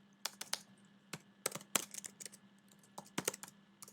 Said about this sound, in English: we are going to type in study